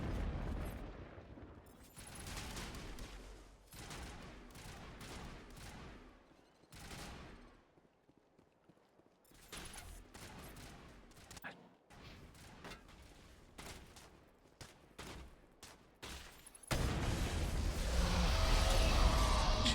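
Gunfire crossfire in the video game Mass Effect Legendary Edition, with repeated volleys of shots in uneven bursts, short lulls between them, and a louder, denser stretch of firing near the end.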